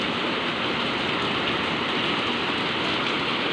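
Heavy rain pours down in Pasig, a dense, even hiss of water striking surfaces close by, constant and loud for the whole stretch with no voices.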